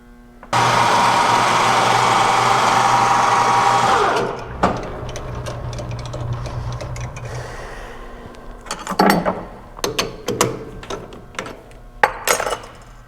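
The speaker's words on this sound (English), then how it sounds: "And then we'll go to the surface grinder." A surface grinder grinds hardened race car bolts with a loud, steady, close whine for about three and a half seconds. The grinding then winds down and gives way to scattered metallic clicks and clatter.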